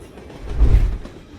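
A train rolls past, its rumble swelling to a peak midway and then fading away.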